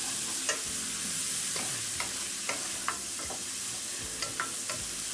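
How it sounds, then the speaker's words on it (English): White and red onion sautéing in a pan give a steady soft sizzle, with a few light scrapes and clicks from stirring, close and fairly quiet with no talking. "So I'm just going to saute that for a little bit."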